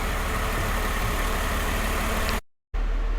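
A 1995 Mercedes SL280 engine idles at operating temperature, slightly hunting, a steady close rumbling drone with a brief dropout near the end.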